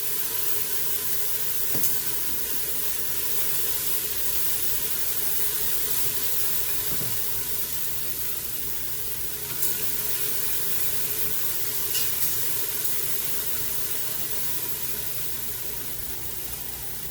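Garlic and red pepper flakes sizzle in hot oil in a pan while cooking spinach and artichoke pasta, giving a steady, even hiss that holds for the whole stretch with no one talking.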